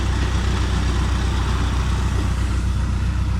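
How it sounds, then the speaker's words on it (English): A 1970 M670 Super four-cylinder diesel tractor engine idles steadily up close, a deep low rumble with an even, chugging pulse that holds without change throughout. "That's a nice running tractor once she warms up."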